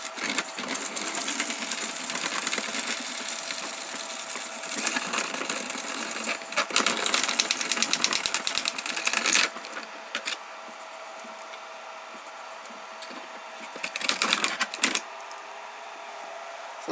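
A shredder driven by a wiper motor grinds and crunches 3D-printed plastic parts in a loud, rattling churn, with sharp clattering bursts, then quieter stretches before another burst of crunching.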